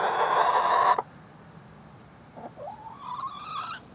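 A hen in a chicken coop gives a loud squawk, then after a short lull lets out a rising drawn-out clucking call, close by with no talk.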